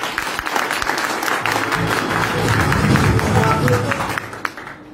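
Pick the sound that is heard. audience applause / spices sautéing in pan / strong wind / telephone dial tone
audience applause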